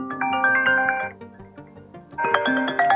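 iPad ringtone volume preview, a short melodic electronic ringtone phrase that plays, pauses briefly, then resumes, moderately quiet and alone.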